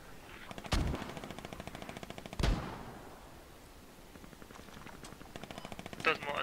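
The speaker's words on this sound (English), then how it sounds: "Those mortars are way off." Distant mortar impacts and rapid gunfire in the Squad video game: two heavy booms amid a steady rattle of automatic fire, with another burst near the end.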